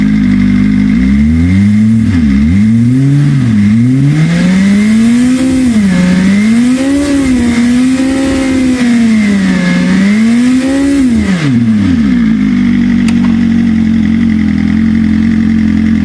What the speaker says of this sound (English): So we'll do the same rev, go to the 8000 RPM.